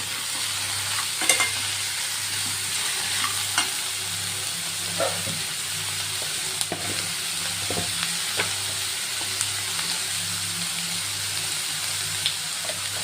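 Chopped bottle gourd sautéing in a pan over full gas flame, a steady continuous sizzle with occasional scrapes and clinks of a spoon stirring, no voices.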